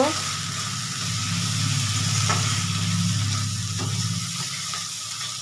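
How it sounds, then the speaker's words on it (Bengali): Spice paste for a potol dolma dish frying in a pan, a steady close sizzle with an underlying low hum and occasional light stirring taps. "মশলাটা ভালো করে একটু কষিয়ে নেব"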